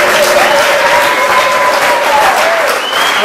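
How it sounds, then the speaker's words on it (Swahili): A church congregation claps steadily together, loud and sustained throughout, with a faint voice carrying over the applause. "Pigie Yesu makofi mazuri."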